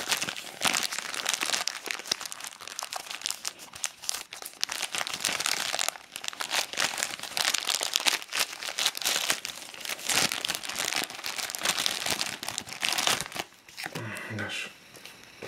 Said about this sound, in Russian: Всеми любимый скотч.